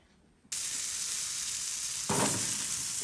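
Potatoes drop into hot sunflower oil and burst into a loud, continuous sizzle that swells again briefly partway through as they are moved in the pan.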